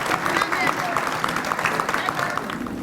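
Audience applause at a Congo independence day celebration, a steady wash of many hands clapping with crowd noise, voices mixed in throughout.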